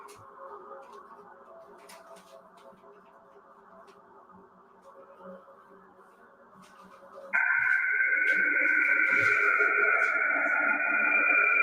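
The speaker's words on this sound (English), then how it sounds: "This is the sound of Jupiter, people." Eerie electronic hum and hiss from a space radio recording of Jupiter, low and droning at first, then jumping to a louder, higher steady whine.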